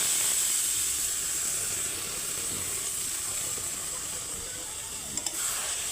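Tadka dal poured into a hot pan holding egg and spices, a loud continuous hissing sizzle throughout with a faint steamy edge and a couple of small clicks near the end.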